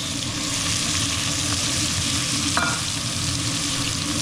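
Onion, carrots, leeks and garlic sizzling in a hot pan for braised beef short ribs, a steady, continuous frying hiss with a faint clink midway and no talking.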